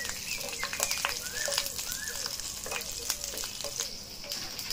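Curry leaves and green chilies crackle and sizzle in hot oil in a home kitchen ahead of frying fish, a steady close hiss with sharp popping spatters throughout.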